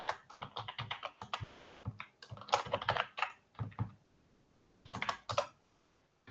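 Bursts of rapid computer keyboard typing, clicking in quick runs separated by short pauses, close and clear with no voices.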